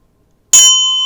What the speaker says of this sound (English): it's a bell. It sounds really loud next to my ear.